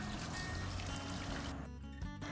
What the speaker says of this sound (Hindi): अब इसको अच्छे से वॉश कर लें